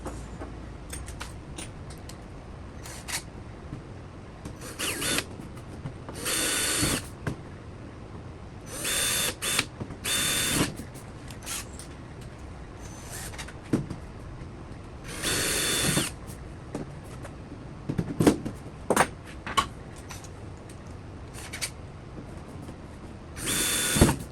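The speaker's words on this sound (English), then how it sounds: "here's our finished shim, drilled out and deburred" Power drill working on a shim for an aircraft right wing, heard in repeated short loud bursts separated by quieter shop noise and faint mechanical handling.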